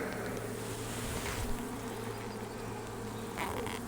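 Honey bees buzz continuously around an open hive during an inspection, a close, steady insect drone with no one talking.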